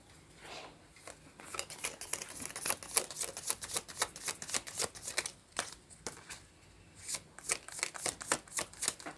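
Tarot cards handled and shuffled up close, a run of quick papery riffles and flicks in irregular bursts with brief pauses, no voices.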